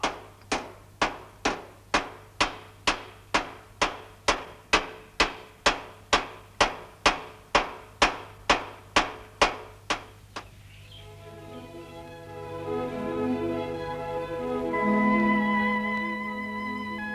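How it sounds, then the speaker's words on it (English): A panel beater's hammer strikes car body metal in a steady, evenly spaced series of about twenty ringing blows, followed by a lingering metallic hum and clatter, in 1962 Melbourne. "faced with the sound of a panel beater's hammer"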